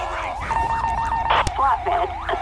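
A wailing police siren in a video game cycles up and down continuously, with a second overlapping siren tone and some background noise.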